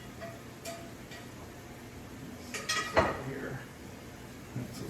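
Ground beef spaghetti sauce being stirred in a pot: soft intermittent scrapes and a few light metallic clinks of a utensil against the pot, with one louder knock near the end, faint and close under a quiet room.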